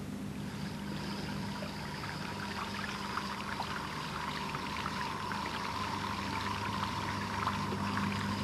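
Stream of water running steadily over a teaspoon held in the downflow, a soft, even pouring and trickling sound, quiet and continuous with no voices.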